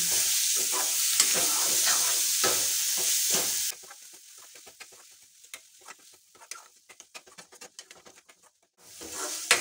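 Coriander leaves being stirred in a hot frying pan, with steady sizzling and scraping for the first few seconds, then quieter intermittent scrapes and taps of the spatula, and the sizzle swelling again at the end.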